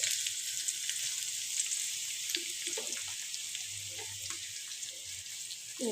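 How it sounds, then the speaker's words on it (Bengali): Thinly sliced onions sizzle in hot oil in a home kitchen, a continuous crackling hiss with faint clinks and stirring sounds, no talking. "এখন প্যাঁচগুলো তেলে দিয়ে দিচ্ছি"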